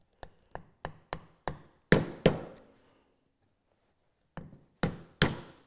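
A chisel struck by a mallet chops a mortise for a cam clamp at the knife wall, a run of sharp, evenly spaced close knocks, a pause, then a few more crisp strikes.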